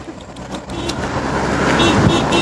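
Road traffic on a highway in Kyrgyzstan beside green fields, a car passing close by with a rising whoosh and rumble that swells toward the end, heard alone without talk.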